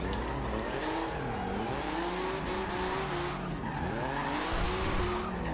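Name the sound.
1982 Porsche 911 Turbo drifting, Forza Horizon 2 video game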